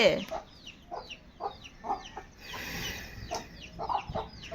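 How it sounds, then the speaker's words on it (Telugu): Several chickens cluck in short, separate bursts, close by, with brief quiet gaps between the calls. "ఇవి వచ్చేసి మన కోళ్ళు అనమాట"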